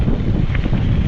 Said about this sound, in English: Oh my gosh, that wind is something else.